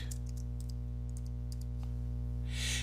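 Keys typed on a computer keyboard in quick scattered clicks, moderately close, over a steady electrical hum with no talking.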